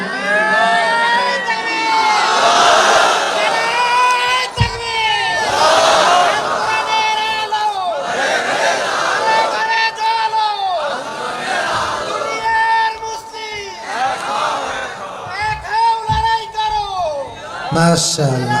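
A large crowd at a Bangladeshi waz gathering shouts takbir, with about five loud, rhythmic swells of massed voices rising and falling, one after another, across a noisy open-air setting.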